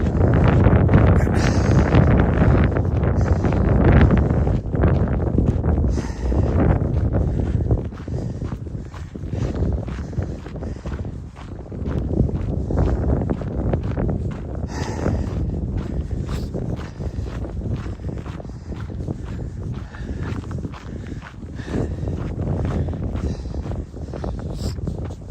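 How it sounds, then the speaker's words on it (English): Strong gusty wind buffets the microphone on a Montana trail, loud continuous roaring rumble rising and falling in bursts, with faint footsteps underneath. "It's always windy."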